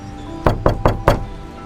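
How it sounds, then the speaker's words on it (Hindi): Four firm knocks on a door late on a rainy night, evenly spaced and close, standing alone with no voices. "दोबारा दस्तक होती है।"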